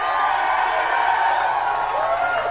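A studio audience from the Late Show cheers and claps, a dense continuous crowd roar with whoops filling the moment, loud and close.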